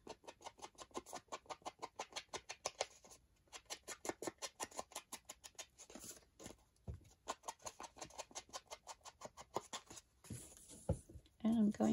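A pen nib scratches across old, brittle music paper in quick rhythmic strokes, a dense run of light scratchy taps with brief pauses, close and fairly quiet, with a voice breaking in near the end.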